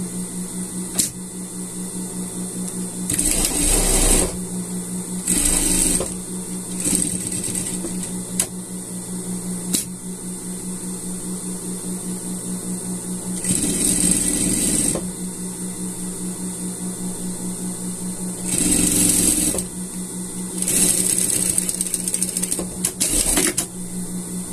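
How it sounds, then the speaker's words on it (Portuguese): A sewing machine topstitches along a sweater seam in bursts, several short runs of steady mechanical whirring with pauses between them, over a constant low hum and no talk. "a gente vai rebater essa costura aqui"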